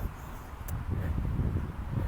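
Steady outdoor wind buffets and rumbles across a microphone, a low blustery roar with a faint rustle, rising slightly midway and holding continuous to the end.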